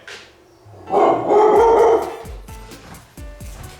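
A dog barks and yips several times near the microphone, a loud drawn-out bark first, followed by a string of shorter, sharper barks with brief pauses between them.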